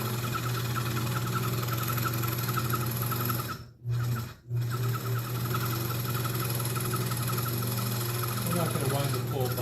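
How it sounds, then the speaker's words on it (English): A Kenmore 120.49 sewing machine winds a bobbin with a steady motor whir and hum that runs throughout, briefly cutting out for a moment before resuming at the same even pitch. "We're not going to wind the full bobbin since this is just for a test."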